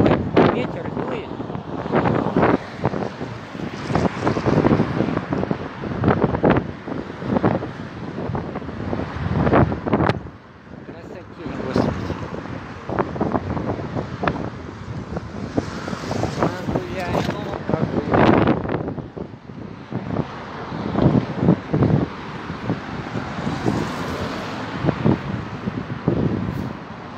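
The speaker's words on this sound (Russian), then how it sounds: "Боже ты мой, ветер дует." Strong wind buffets the microphone near a fountain outside the Globus theatre in Novosibirsk, loud gusty rumbling roar that rises and falls with irregular bursts, while a person talks.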